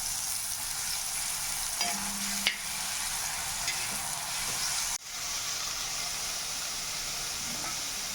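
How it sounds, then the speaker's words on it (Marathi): Bitter gourd fries on a tawa while being stirred. A loud, steady close sizzle hisses throughout, with scraping stirs and a brief clank partway through. "म्हणजे हे फ्राय होऊ द्यायचं चांगलं."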